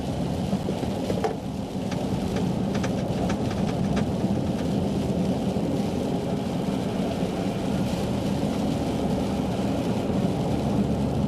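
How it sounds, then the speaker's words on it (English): Sleet pelts a moving car on winter-storm roads, a dense, steady hiss and patter over a constant low road rumble, loud and close throughout, with no talking. "I think we have officially hit the transition to sleet."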